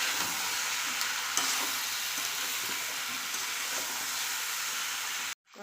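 Jackfruit curry sautéing in a pan, a steady close sizzle with faint stirring scrapes running throughout and no talk, ending in an abrupt cutoff.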